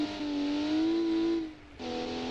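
A powerful offroad truck engine revs in a 2008 offroad racing video game, a steady droning whine that rises in pitch, dips briefly, then resumes loud and close.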